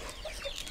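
Chickens cluck softly and briefly at a trough filled with grain, giving a few quiet clucks at close range.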